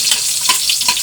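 Onion sautéing in a hot pan, a loud close sizzle and crackle with a few stirring scrapes, alone without talk.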